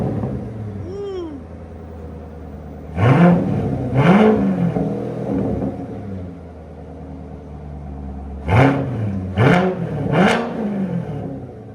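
A 2019 Chevrolet Corvette Grand Sport with a 6.2L V8 and straight pipes revs hard in short loud bursts, one pair of blips and then a quick triple, each rising and falling over a steady idle rumble.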